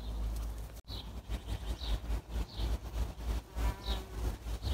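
Bees buzz close by in short passes, their drone rising and fading as they come and go, with a faint bird cooing in the background.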